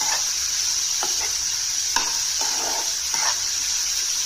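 Beans stir-frying in a tempering of green chillies, mustard seeds and curry leaves for beans palya, a steady close sizzle with a few soft scraping stirs of the spoon, no voices.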